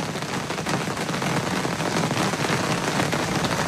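Steady heavy rain drums on a surface in a dense, unbroken hiss, loud and close throughout, with no voices.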